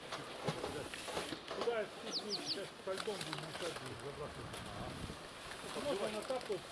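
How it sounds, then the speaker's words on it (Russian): Wild pigeons flying about and cooing near a feeder outdoors, with faint calls and wing sounds scattered over steady background noise and someone speaking now and then. "Вот они, голуби, тут летят."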